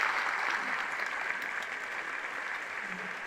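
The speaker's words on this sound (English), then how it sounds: "Can we have a round of applause for our panel, please?" Steady applause from an audience at a city State of the City address, sustained clapping at an even level throughout with no voices standing out.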